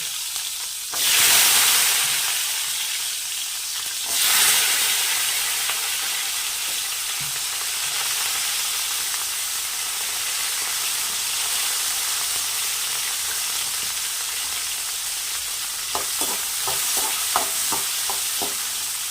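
Oil sizzles steadily with a hissing, crackling fry as onions and garlic cook for a Tamil vatha kuzhambu, broken by a couple of loud splashes of ingredients dropping in and some light stirring clicks near the end.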